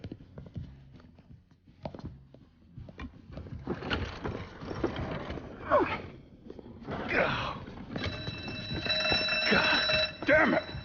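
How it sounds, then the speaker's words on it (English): An alarm goes off during a heist in the Mafia III video game, a steady ringing tone that rises over busy game sounds in the last few seconds, mixed with music and voices. "You triggered the fucking alarm?"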